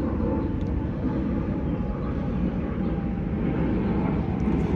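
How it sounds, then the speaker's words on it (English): Planes pass overhead near a quiet commuter road, a continuous loud low roar of jet engines filling the whole stretch with no speech. "A lot of planes. Too much noise."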